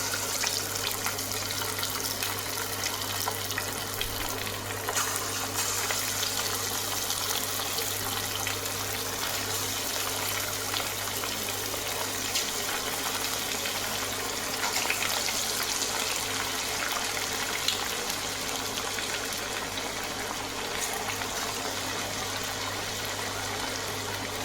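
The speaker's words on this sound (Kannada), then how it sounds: "ಇದನ್ನ ಇವಾಗ ಎಣ್ಣೆಯಲ್ಲಿ ಕರಿಯೋಣ." Sago ambode fritters fry in hot oil, giving a steady, continuous sizzle and bubbling hiss that holds at an even level throughout, close and alone without voices.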